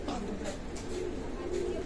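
Running-pair pigeons in a loft coo softly and repeatedly in the background while someone talks steadily over them.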